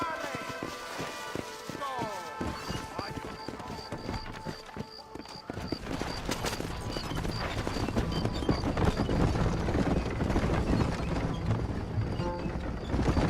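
In Red Dead Redemption, horse hooves clip-clop then break into a steady gallop, growing louder over rumbling movement, with a brief whinny amid game-like sound effects.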